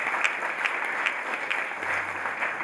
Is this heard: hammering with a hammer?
no